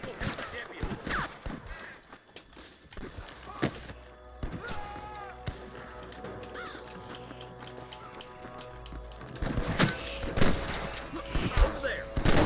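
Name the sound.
gunshots in the video game Red Dead Redemption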